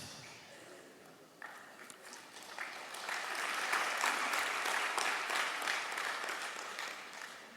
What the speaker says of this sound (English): No, don't clap.